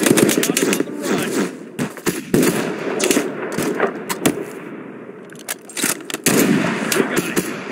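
Small-arms and machine-gun fire from the game Mud and Blood, at St Lo, crackles in loud, close, irregular bursts that stutter on and off throughout, with voices faintly beneath.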